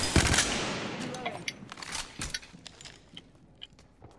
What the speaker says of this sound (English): Did you not hear the shooting?